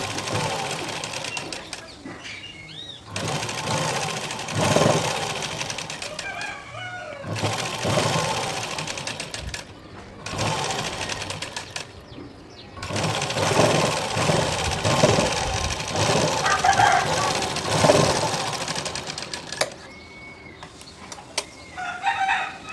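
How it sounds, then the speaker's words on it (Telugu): A sewing machine stitching a frock lining runs in several bursts, each a few seconds long, separated by short pauses. A rooster crows and hens cluck in the background. "ఇటు సైడ్ కూడా ఒక కుట్ట వేస్తున్నాను"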